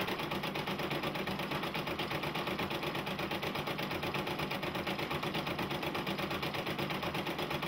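A Brother embroidery machine stitches a design with a steady, rapid mechanical chatter, close and continuous at an even level throughout.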